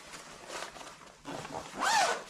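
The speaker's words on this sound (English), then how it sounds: "zip it up" A zipper on a waterproof jacket being drawn up in a few short, quiet rasping strokes, the last one slightly louder, close by and with no talking.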